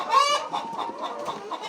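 A laying hen on a poultry farm gives a loud close squawk, then a run of rapid clucks.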